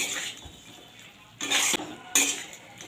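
Spices and crushed kasuri methi are stirred into pumpkin and potato in a pan, with a low background sizzle broken by two sharp, close scraping bursts of a utensil against the pan.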